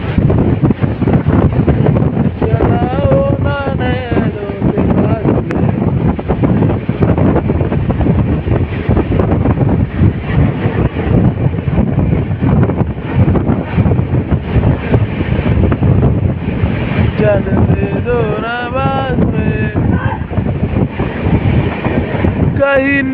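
North East Express train running at speed, roughly seventy to eighty, a loud steady rumble and rush of wind buffeting a microphone for the whole stretch, with faint voices or music drifting through in places.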